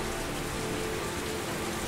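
Steady rain in the video game Heavy Rain, a dense, even hiss of drops falling on surfaces with no pauses or other sounds, filling the whole moment at a constant loud level.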